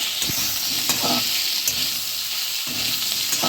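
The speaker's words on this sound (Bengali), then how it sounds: "মশলা কাঁচা গন্ধ যাওয়া পর্যন্ত ভালো করে কষিয়ে নেব" Spice paste of green chilli and ginger with whole garam masala sizzles loudly in hot oil in a pan, with a steady hiss broken by repeated scraping stirs.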